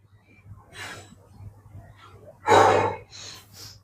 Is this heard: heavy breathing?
yes